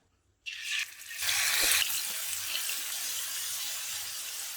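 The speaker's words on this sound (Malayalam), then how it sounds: "എണ്ണ ചൂടായിട്ടുണ്ട്. ഇനി നമുക്ക് ചെമ്മീൻ ഇട്ട് കൊടുക്കാം." Prawns drop into hot oil in a pan for prawn biryani. After a brief silence comes a sudden loud burst of sizzling, which surges higher and then settles into a steady, close hiss.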